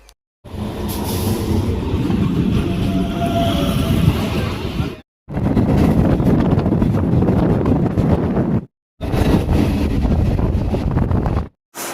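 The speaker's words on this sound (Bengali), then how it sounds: "আর কিছুক্ষণের ভিতরে ট্রেন ঢুকে যাবে" A train arriving at a railway station makes a loud, close rumble mixed with heavy wind buffeting, broken by a few brief silent gaps.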